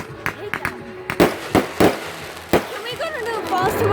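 Fourth of July fireworks going off nearby, a string of sharp irregular bangs and pops, some loud and close, with people talking and a crowd in between the blasts.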